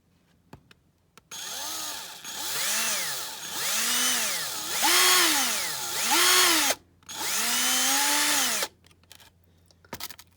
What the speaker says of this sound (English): I think I'll just try and drill out the glass.